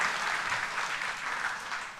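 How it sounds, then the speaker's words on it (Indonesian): Church congregation applauding during a sermon, a steady, full wash of clapping from many hands that lasts the whole stretch with no talk. "Kita berikan tepuk tangan buat Tuhan Yesus yang baik."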